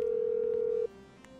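A phone in Grand Theft Auto 5 gives a single steady dial tone for just under a second, loud and clean, then cuts to a faint background hum.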